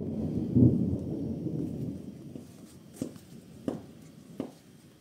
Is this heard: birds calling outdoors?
no